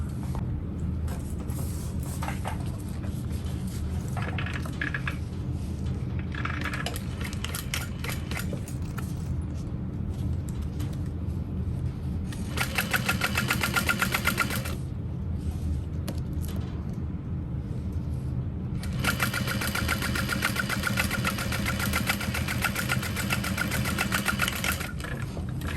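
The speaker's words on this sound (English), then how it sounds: "and then we'll top stitch" A sewing machine top stitches a small bowler hat in steady running bursts, pausing and restarting several times with a continuous mechanical whir throughout.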